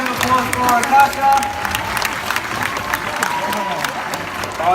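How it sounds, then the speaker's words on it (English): An audience at a white tiger show at Tiger Island applauds in a short burst of scattered clapping and light cheering, with a presenter's amplified voice talking over it. "Big round of applause for Akasha."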